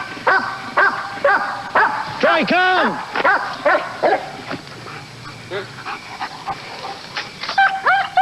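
A police K9 dog barks and yips sharply during an attack on an armed suspect, the bursts loud and close, mixed with whimpering and shouted voices throughout.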